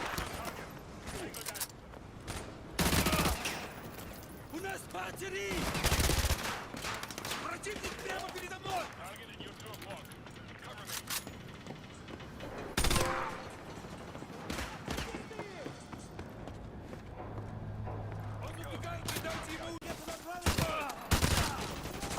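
Gunfire from the video game Call of Duty: Modern Warfare 2 Remastered campaign: bursts of automatic fire and sharp single shots at irregular intervals, loud and close, with game sounds and a voice talking between them.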